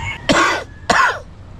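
Two sharp, harsh coughs close by, separated by a short pause, with quiet background afterward.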